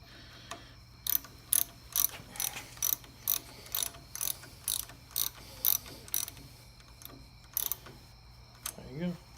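A ratchet wrench tightens an 8mm bolt on a Kawasaki Ninja 250R brake lever, giving a run of about a dozen evenly spaced metallic clicks, close and fairly quiet, with faint talk near the end.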